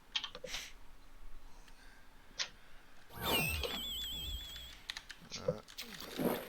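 Keystrokes typing a console command into Quakeworld, a burst of quick clicks near the start, then sparser taps mixed with game sounds and speech.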